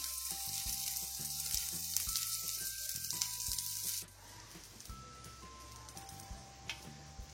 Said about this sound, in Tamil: நான் இந்த வாழைக்காய் ஃப்ரை மட்டும் இந்த நான்ஸ்டிக் தவால செய்வேன்.